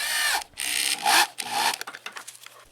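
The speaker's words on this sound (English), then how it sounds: "I used a hole saw to drill a 1 1/4 inch hole out of a piece of wood" A hole saw cuts a 1 1/4 inch hole through a piece of wood, giving loud, close grinding bursts in two or three passes that break into shorter scraping strokes as the cut finishes.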